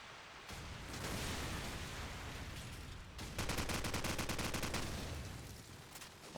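Dense, loud bursts of automatic gunfire from Call of Duty 4 during a competitive LAN match, with rapid rattling volleys running continuously and a sharper, faster burst in the middle.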